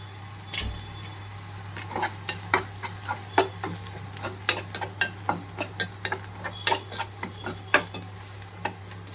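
Turmeric, salt and chili powder fried and stirred in a pan for cluster beans fry, heard as a steady run of sharp spoon-on-pan scrapes and clicks over a low hum, close and moderately loud, with no talk.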